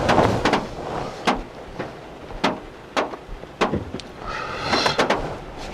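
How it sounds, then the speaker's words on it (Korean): Raindrops strike the roof of a Lexus ES300h from inside the cabin, making irregular sharp taps like knocks on sheet metal, loud and close, spaced unevenly over quiet road noise. "이 루프에 빗방울 떨어질 소리가 거의 철판 두들기는 소리처럼 나네요"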